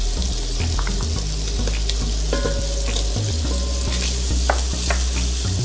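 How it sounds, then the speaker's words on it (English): Onions sizzle and crackle as they fry in a hot pan for a seafood chowder, a steady loud hiss running throughout with occasional stirring and clinks. "what we're going to do now is add the onions"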